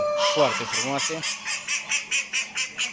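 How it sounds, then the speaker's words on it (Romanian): A drake duck at a national poultry exhibition gives a run of about nine rhythmic, nasal quacks, loud and close, after a man's brief spoken remark at the start. "Aici un rățoi."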